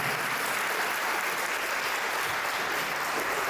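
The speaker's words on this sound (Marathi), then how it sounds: "करून टाळ्या झाल्या पाहिजे." Steady applause for a couple at a 50th birthday party, an unbroken wash of many hands clapping together at an even, moderate level throughout.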